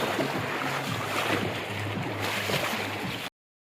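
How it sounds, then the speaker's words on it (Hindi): Rushing floodwater flowing fast in hilly terrain during a motorbike ride, a constant loud churning hiss mixed with wind noise that cuts off abruptly near the end, with no voices. "ये देख सकते हैं आप पानी की स्पीड"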